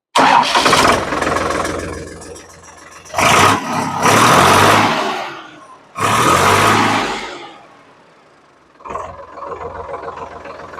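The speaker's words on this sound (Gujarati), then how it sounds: "આપણે ટ્રેક્ટર કરીએ ચાલુ." A tractor engine is cranked and catches in several bursts, roaring up loudly then sagging between attempts, and finally settles into a quieter running idle near the end; no one speaks.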